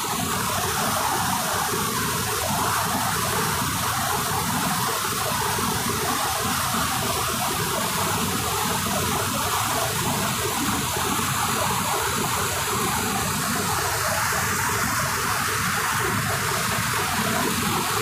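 The flooded Kozhikarai river in the Kotagiri hill forest, Nilgiris, Western Ghats, roars loudly and continuously without pause, a dense wash of rushing water filling the whole stretch.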